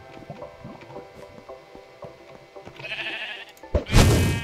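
A Minecraft sheep bleats several times in a quick wavering series, loud and close, followed by a brief thud and burst of noise at the end.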